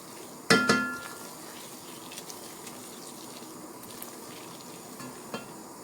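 Semolina roasts over a medium flame in a pan, with a loud clank of a spoon against the pan early on, then quiet scraping and faint sizzling as it is stirred.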